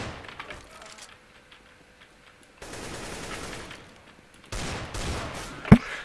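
A video game sniper rifle fires in sharp cracking bursts, with clusters of shots and one loud crack near the end over background game noise.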